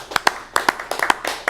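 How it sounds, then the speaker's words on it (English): A business committee claps for its tribal membership during a special meeting, a short burst of a few sharp, uneven hand claps, close and loud, with no talk over them. "let's clap for our tribal membership"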